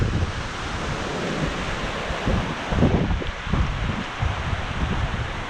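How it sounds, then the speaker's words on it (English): Cold gusty wind buffeting the microphone beside a waterfall coming off the mountains in Scotland, a steady rushing roar with louder low gusts surging in the middle. "It's really cold and windy"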